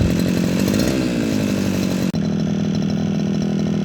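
A brush cutter engine runs steadily with a swivel grass-cutting blade fitted, a loud continuous buzzing drone close by that dips for a split second midway before carrying on smoothly.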